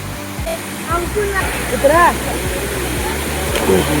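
Small waterfalls and trickling streams run at Prabalgad, giving a steady, moderately loud outdoor rush of water while birds chirp and a voice is heard at times.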